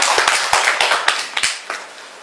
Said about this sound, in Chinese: 这应该有一个掌声啊。